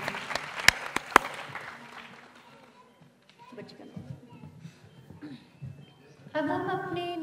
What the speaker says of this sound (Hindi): हफ्जा आयशा के लिए जोरदार तालियां